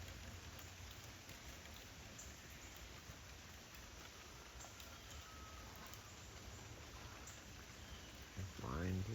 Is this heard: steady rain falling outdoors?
yes